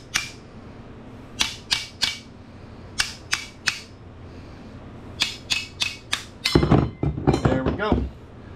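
A hammer strikes a rusted wheel hub on a 2015 Kia Sedona to drive it out of its bracket: sharp metallic blows in uneven clusters of two and three, up close, ending in a rapid flurry of hits.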